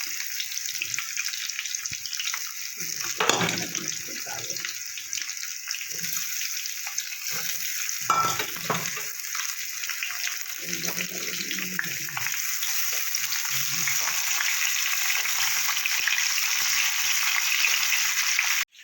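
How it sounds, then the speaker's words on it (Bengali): Potatoes frying in oil in a pan for Bengali niramish aloo dum, giving a steady bright sizzle that holds throughout, with occasional soft clinks of utensils and no voices. "ওদিকে আলুটা আমার ভাজা হতে থাকবে"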